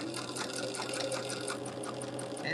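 A sewing machine runs steadily as a quilt block unit is sewn together, a continuous close motor whir with a fine mechanical stitching texture lasting throughout.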